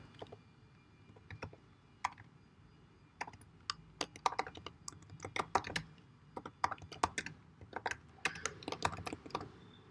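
Close, quiet keystrokes on a computer keyboard, clicking in irregular bursts and short runs with brief pauses between words.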